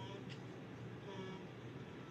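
Car horns honk in the Lego Avengers video game, a brief toot rising over a steady bed of traffic and game background noise.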